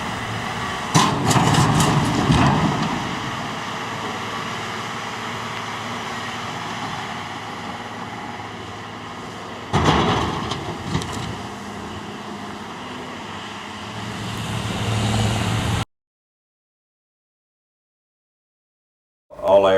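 A tractor pulling a Miskin construction scraper drones steadily with two louder surges of clanking and rumbling, then the sound cuts out into silence.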